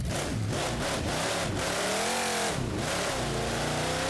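A monster truck engine in the video game BeamNG Drive revs loud and continuous, pitch climbing and dipping through repeated throttle surges and drops, close and filling the whole stretch with no talking.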